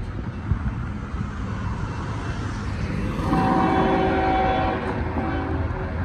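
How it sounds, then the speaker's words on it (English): A southbound Norfolk Southern freight train approaches and rolls past, its horn sounding in a steady tone partway through over the continuous rumble of wheels and cars. "The southbound train is finally coming. And it is a Norfolk Southern train."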